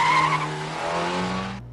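A car skids with a sustained, loud tire squeal and engine roar that shifts in pitch, then cuts off abruptly, leaving a low rumble.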